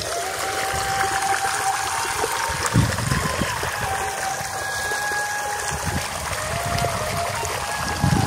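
Water flowing from a pipe in a rural field setting, a continuous close trickling and splashing stream with steady level and occasional louder gurgles, no speech.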